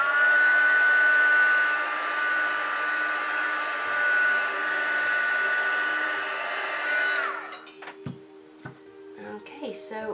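A hair dryer blows steadily and loudly at close range for about seven seconds, a constant whooshing whine, then cuts off and leaves soft handling noises and brief quiet talk.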